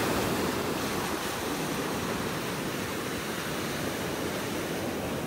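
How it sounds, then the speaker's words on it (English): Ocean waves breaking on a beach in North Naples, Florida, a continuous loud broadband surf roar with some wind rumble, no talk. "These waves have been slowly chewing away at our beach."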